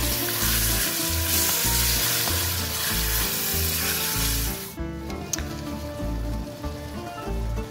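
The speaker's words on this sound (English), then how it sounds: "Add a can of tomatoes. I use diced tomatoes," Canned diced tomatoes hitting a hot sauté pan, a loud dense sizzle with rhythmic stirring that drops off sharply partway through, leaving a quieter simmer and a few light scrapes.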